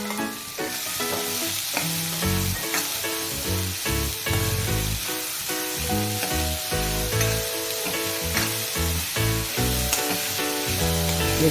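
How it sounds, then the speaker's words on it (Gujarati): Finely chopped onion sizzles in hot oil with crackling cumin seeds over a medium gas flame, a loud, close, continuous frying hiss laid under steady background music. "જીરું ચટકી ગયું છે, તો હવે એમાં આપણે જે મેં ડુંગળી ઝીણી સમારીને લીધેલી છે એ નાખી દઈશ"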